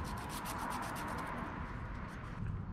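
The tip of a distributor rotor from a 1973 Datsun 1600 is polished with quick, continuous rubbing strokes, giving a close, steady scratchy sanding sound throughout.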